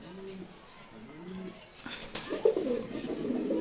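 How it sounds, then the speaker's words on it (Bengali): Giribaz and racer pigeons in a loft give a few soft, low coos close by, then louder rustling, fluttering and scuffling noise takes over. "এই ধাপটিতে আরও অনেক কবুতর আছে, দেখেন গিরিবাজ আছে, এখানে ঘিয়াচুলি আছে, রেসার আছে"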